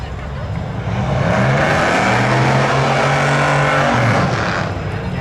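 Cars roar loudly and nearby at the Seekonk Speedway spectator drags, with a 1988 Chevy Camaro among the entrants. One engine climbs in pitch as it accelerates hard, while an announcer talks over the engine noise.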